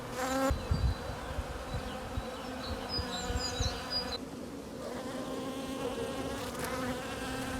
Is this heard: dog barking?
no